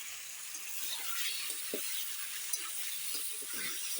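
Tomato and dried red chili paste frying in a pan for a small river-fish curry, giving a dense, hissing sizzle with a few soft stirring scrapes, close and steady.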